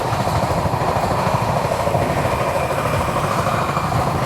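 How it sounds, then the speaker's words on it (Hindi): The Sachkhand SF Express, an Amritsar to Nanded passenger train, runs at speed, heard from inside the coach as a loud, steady rumble with a rapid clatter of wheels over the rails. "क्या जबरदस्त रफ्तार पड़ रही है हमारी ट्रेन में।"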